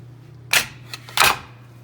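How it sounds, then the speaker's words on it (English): Orange and carrot pieces dropped into a blender jar, two distinct thuds about half a second apart with a small knock between, over a steady low hum. "I'm putting it in my blender here."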